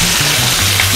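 Stuffed chicken with peppers and onions sizzling steadily in a single frying pan, a continuous close crackle with a low hum underneath, no talking.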